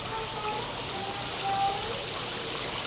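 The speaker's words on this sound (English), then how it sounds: "The water coming down to the side now." Water trickling and running steadily down the side of an exhibit at the California Science Center, a soft continuous wash heard alone at moderate level.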